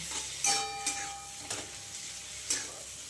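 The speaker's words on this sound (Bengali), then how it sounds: "এবার এর মধ্যে আমি দিয়ে দিচ্ছি হচ্ছে কাঁচা লঙ্কা আর আদা বাটা" Green chili and ginger paste tipped into a frying pan over fish and kohlrabi, giving a few sharp clinks and scrapes over a steady low sizzle, close and moderately loud.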